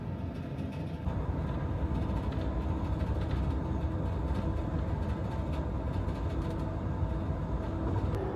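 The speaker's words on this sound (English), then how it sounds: "Oh, there's another train." Amtrak Texas Eagle in Texas passing another long freight train pulled by many locomotives, a steady, continuous low rumble of rolling cars on the tracks for the whole stretch with no voices.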